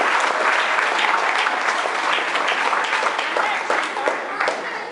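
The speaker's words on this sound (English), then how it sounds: "let's give one more round of applause." An audience at a benefit event with a keynote speech gives a round of applause, dense and loud, a continuous wash of many hands clapping that tapers slightly at the end.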